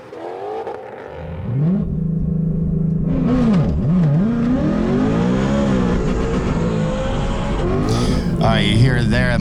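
Modified Shelby GT500 on a drag strip, its engine roaring loud and steady while the revs rise and fall, with a sudden shift in pitch as the transmission drops into neutral, and voices talking over it.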